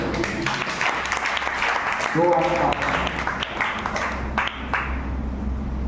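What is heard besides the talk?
audience clapping loudly during worship service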